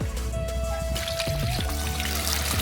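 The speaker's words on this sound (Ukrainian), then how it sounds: "я трішки проливаю, бачите, і звідси по бортику тече" Water pours and trickles into the 16-litre tank of a SEQUOIA battery backpack sprayer, spilling over the rim in a steady splashing stream with a brief bubbling gurgle midway.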